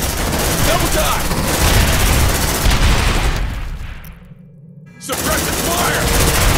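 Sustained rapid gunfire and explosive blasts fill the Aliens: Dark Descent video game battle, loud and dense, then cut to near silence for a second before the firing resumes at full intensity.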